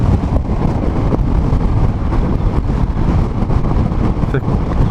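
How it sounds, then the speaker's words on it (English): Wind buffets the camera microphone on a Honda NT700 Deauville motorcycle riding through the Scottish Highlands, a constant loud roaring rumble that fills the whole stretch with no break. "the wind is picked up quite a bit"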